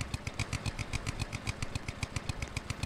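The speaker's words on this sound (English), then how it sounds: "We have a chainsaw now" A video game chainsaw runs steadily, a close mechanical buzz with a fast regular pulsing rhythm that continues unbroken throughout, heard on its own without speech.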